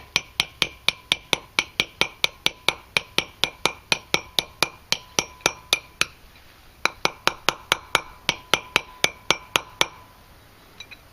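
Rapid metallic tapping as an old wheel bearing drives a new one into a 1999 Suzuki Swift/Geo Metro rear hub, dozens of sharp ringing strikes in a steady rhythm with a brief pause midway, close and fairly loud, no talking.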